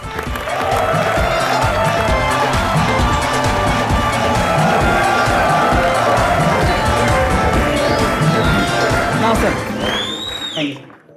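Loud, sustained audience applause and cheering in a TV comedy show studio, a thick continuous roar of clapping that fades near the end with a few whistles.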